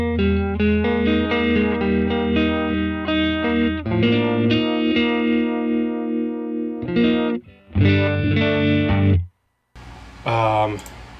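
An electric guitar plays sustained chords through a shimmering chorus and bias tremolo effect into dual tweed amp models, full and close, ending with a brief pause and a few short strums.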